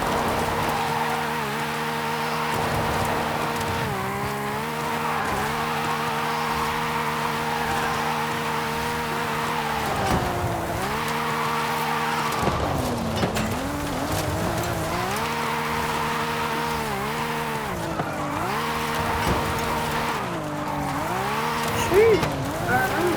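A car drifts in Forza Horizon 5, its engine droning and shifting pitch continuously as tires squeal through long slides, close and steady, with a person talking over the action.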